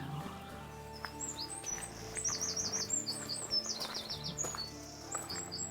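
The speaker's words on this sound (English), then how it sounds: "Birds singing." Birds chirp and sing outdoors among lichen-covered trees at Madron's Well, rapid high trills and tweets repeating over a low steady hum of background noise.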